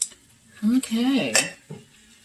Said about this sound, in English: let's just stir all this around, get everything incorporated.